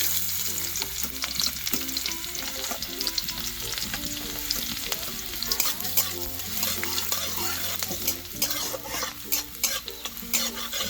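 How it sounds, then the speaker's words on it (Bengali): Chopped garlic frying in hot oil in a pan, a continuous bright sizzle broken by repeated scraping and stirring strokes of a spoon, close and fairly loud, with faint background tones and no speech. "রসুনটাকে খুব ভালোভাবে একটু লালচে কালার করে ভেজে নিয়েছি"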